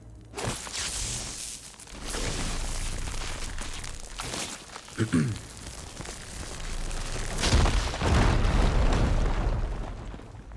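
A fire gleam ignites and explodes in the video game Horizon Forbidden West: several booming bursts spaced across the stretch, the loudest swelling near the end, with footstep-like thuds between and no talk.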